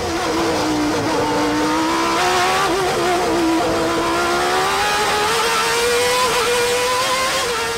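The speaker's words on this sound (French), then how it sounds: "Les 26 voitures foncent vers le premier enchaînement à plusieurs centaines de mètres devant." Pack of 26 Formula 1 race cars at the start of a Grand Prix speeding toward the first corner, a loud sustained engine roar with rising and shifting pitch, continuous for several seconds.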